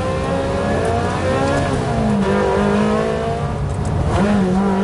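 A highly tuned Ferrari 360 engine pulls hard and loud, its pitch climbing and dropping with quick paddle-shift gear changes, close and continuous throughout.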